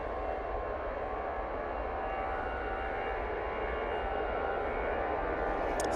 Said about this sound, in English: Got a TUI 737 coming in from Zakynthos